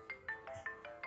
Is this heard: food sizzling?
no